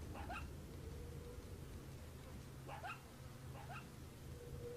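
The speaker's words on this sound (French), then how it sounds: "Il y a le retour du chien." Dog in the video game Resident Evil 4 giving short whimpering yips in three brief clusters over a low ambient game background, fairly quiet and with no talking.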